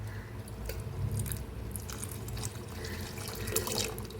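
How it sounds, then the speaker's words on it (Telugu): Water being poured into a pan of ridge gourd dal, a steady running, splashing pour that lasts throughout, with faint clinks and rustles close by. "నేనైతే ఇప్పుడైతే వాటర్ అయితే యాడ్ చేసుకుంటున్నాను."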